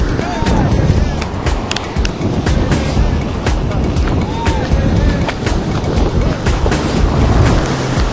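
Mediterranean Sea waves and wind at the shore: loud, constant broadband roar of surf with heavy wind buffeting the microphone throughout, no distinct breaks between waves.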